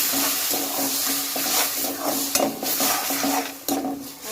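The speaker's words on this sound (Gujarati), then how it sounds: "હવે આપણે એમાં નાખી દઈશું અને ટામેટાં પણ સરસ સાંકળી લઈએ આપણે" Tomato purée and onions bubble and sizzle in a pan with a dense, fairly loud hiss, broken by stirring scrapes and a couple of sharper clicks. No voices.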